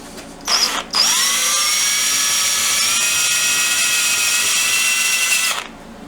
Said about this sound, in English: So the first thing we do is drill our 3/4 inch hole.